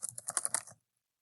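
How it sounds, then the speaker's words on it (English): Quick run of computer keyboard typing, a brisk burst of clustered keystrokes lasting under a second and then stopping, close and fairly quiet with no voices. "you can type their name"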